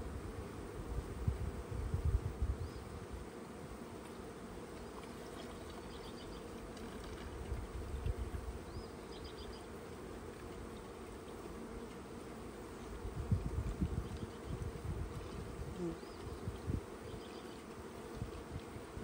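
Package of honeybees being installed in a hive near a syrup feeder, a faint, steady buzzing hum with occasional louder swells of low rumble, no voices.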